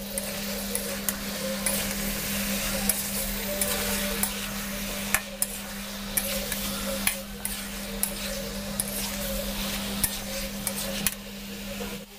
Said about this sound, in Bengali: এঁচোড়টা দিয়ে মিডিয়াম ফ্লেমে আমি এঁচোড়টাকেও 5 মিনিটের জন্য কষিয়ে নেব।